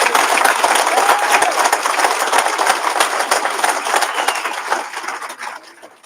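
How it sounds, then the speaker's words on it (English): Sustained applause from a graduation ceremony audience, steady, dense clapping throughout, broad and fairly loud, tapering off in the final second. "Can we give Skylar another gigantic round of applause?"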